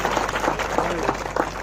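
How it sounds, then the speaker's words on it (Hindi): A village crowd at a bhajan competition event clapping loudly, dense continuous applause with a voice speaking over it. "जोरदार ताली बजा भोपाल और दिल्ली तक सुनाई"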